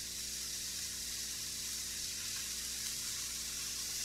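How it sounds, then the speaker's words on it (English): A steady, even sizzle of sous vide yellowfin tuna searing on a hot grill, a constant hiss with no voices. "Nice sizzle."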